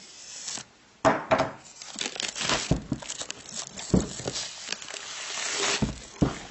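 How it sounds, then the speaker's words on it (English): Plastic wrap on a Google Chromebook Pixel box is sliced and torn away, close-up crinkling and ripping in irregular bursts with scraping rustles between them. "So we're just going to slice the plastic right here"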